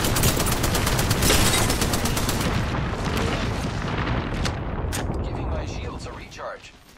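Dense, continuous gunfire from the video game Apex Legends, loud and heavy, with rapid bursts and booming shots that fill the whole stretch before easing off at the end.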